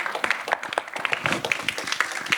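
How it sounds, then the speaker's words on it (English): Audience applause at the Inspire Helsinki 2019 keynote, a brief burst of steady clapping from a crowd in a conference hall, moderately loud and continuous. "give a big round of applause for ourselves"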